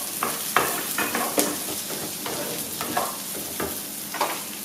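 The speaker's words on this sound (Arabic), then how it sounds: "كنديرو الطماطم كذلك وكنبقاو كنقليو" Chopped onion and tomato sizzle steadily in hot oil for a restaurant-style seafood rice, with a spatula stirring and scraping the pan every second or so, close and fairly loud, with no talking.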